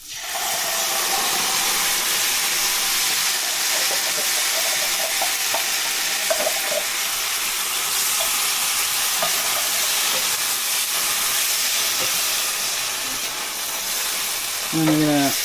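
Spiced onions, fried until starting to catch, are stirred into a pan of beans. A loud continuous sizzle and hiss fills the clip, with scraping stirs and a brief clatter near the end.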